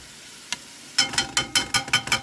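Food sautés and browns in a pan for an affordable home-cooking dish. A single scrape comes first, then a steady run of rhythmic stirring scrapes over a soft sizzle, close up, with no talk.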